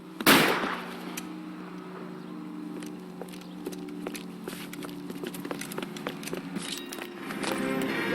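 Gunfire in a shootout, one loud sharp shot near the start followed by scattered smaller cracks and knocks over a quiet room tone, no speech.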